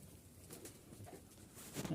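Pigeons coo softly at a pigeon loft where birds sit on eggs in their nests: faint, low, murmuring calls that rise slightly toward the end.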